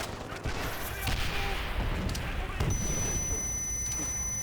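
Machine gun fire from Call of Duty gameplay, rapid bursts that blend into a dense, noisy wash of battle sound running through the whole stretch, with no clear pauses.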